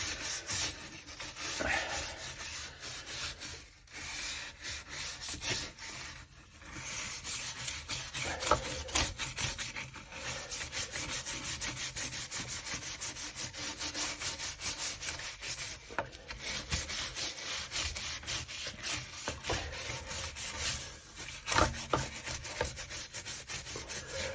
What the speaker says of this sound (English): I'm going to go ahead and start scrubbing here